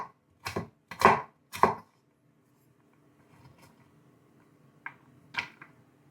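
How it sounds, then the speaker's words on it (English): A knife chops sweet potato into small cubes on a board: four or five sharp, close knocks in quick succession, a pause with faint handling, then two more spaced chops. "First, slice the potato into long, even strips, and then carefully chop those strips into small, uniform cubes"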